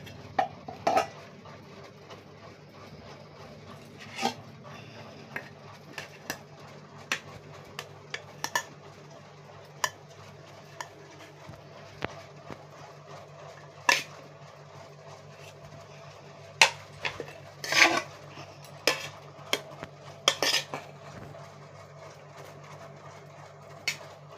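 Rice is served onto a plate, with sparse clinks and scrapes of dishes and cutlery scattered unevenly across a quiet room and no voices.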